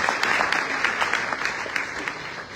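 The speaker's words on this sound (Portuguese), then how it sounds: "Então uma salva de palmas, porque o país só vai mudar se vocês mudarem." An audience at a debate applauds briskly, with many hands clapping in a dense, even patter that fades slightly toward the end.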